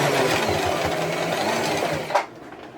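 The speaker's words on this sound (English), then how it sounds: "And I can remove this off the sewing machine" A sewing machine stitching fabric runs steadily in a fast mechanical whir, then stops abruptly with a small clunk, leaving quiet room tone.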